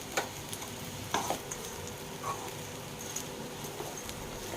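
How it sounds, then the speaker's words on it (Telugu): Cooked rice being stirred into gobi fried rice in a pan, with a soft sizzle and scattered spoon scrapes and taps against the pan, faint and close. "ఇలా వేసిన అన్నాన్ని బాగా కలుపుకుంటామండి"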